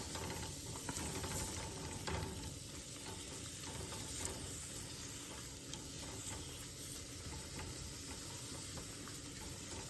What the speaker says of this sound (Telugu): ఉల్లిపాయలు, పచ్చిమిరపకాయలు ఫస్ట్ వేస్తాను.